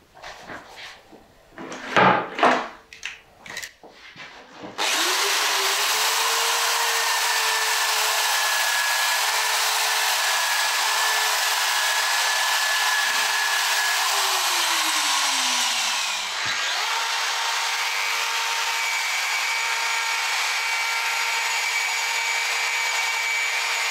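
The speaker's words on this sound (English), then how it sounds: "I also have something like this to attach the vacuum cleaner to the brush machine" After a few knocks and clunks, a brush machine spins up and scours a wooden beam with a vacuum attached, giving a loud steady whir that holds for about eleven seconds, dips briefly and then continues.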